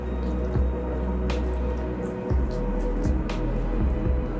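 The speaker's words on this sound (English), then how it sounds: "Now I'm going to mix this pack." Wet, squishy stirring of a turmeric and rose water face pack, a steady mixing noise broken by soft, repeated knocks of the spoon against the bowl.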